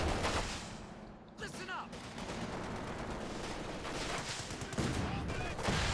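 Mortar and MG42 machine gun fire in the video game Company of Heroes 2, bursts of rapid gunfire and blasts mixed with battle effects, moderately loud and dense throughout.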